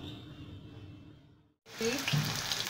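Potato luchi, flattened dough rounds, dropped into hot oil, with a steady sizzle that breaks off briefly and then returns louder and denser as the bread fries and puffs, close up.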